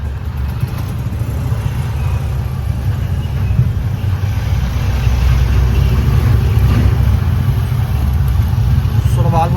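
A steady, close engine drone and road rumble from an auto rickshaw driving through traffic. The noise holds at a constant loud level for the whole stretch, with faint traffic noise around it.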